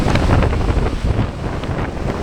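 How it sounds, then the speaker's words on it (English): Strong, gusting wind buffets the microphone beside the Potomac River along a cliff at Great Falls Park, Virginia, a loud continuous low roar with no voices. "we do have very high winds today"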